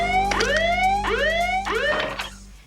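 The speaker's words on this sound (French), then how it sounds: "C'est le signal d'alarme que Minx a installé." An alarm signal installed in a cartoon setting, three rising electronic siren-like sweeps in a row, loud and close, with a steady hum underneath and no talk.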